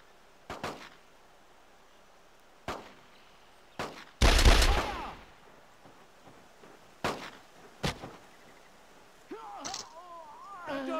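Gunfire in Brothers in Arms D-Day on the Sony PSP, with scattered single shots, a short burst in the middle and sharp cracks spread across the clip; voices are heard near the end.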